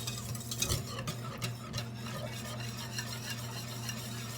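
Cheese is stirred into a milk and flour-butter sauce in a pan, producing soft repeated scraping and stirring strokes over a low, steady background hum.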